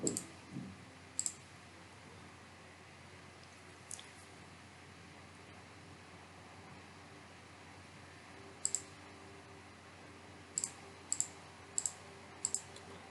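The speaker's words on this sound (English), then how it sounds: "I will click here." Sharp computer mouse clicks sound at a desk, single and paired taps spread over a quiet room hum, close and crisp, with several quick clicks clustered near the end.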